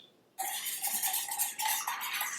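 A small whisk rapidly beats salad dressing in a bowl, a steady scraping, clinking rattle that starts abruptly and continues close and loud without any talk.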